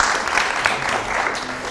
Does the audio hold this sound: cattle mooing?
no